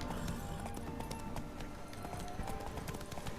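Horse hooves clop steadily in The Witcher 3 as a mount runs along, with rapid rhythmic impacts under a busy game soundscape. The level stays moderate throughout.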